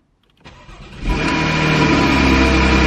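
A damaged Porsche 981 Boxster engine cranks briefly, then catches and roars to life, settling into a loud, steady idle close by.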